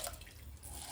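Water pours into a pot for jeera rice in a brief, steady, close-up stream with light splashing.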